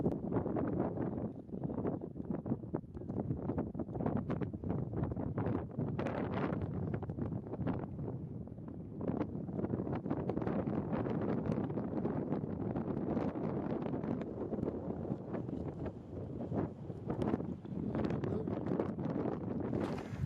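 Strong wind buffeting the microphone on a high mountain ridge of Mt. Harvard, a Colorado fourteener, as a continuous loud roaring rush with gusty surges and no pauses.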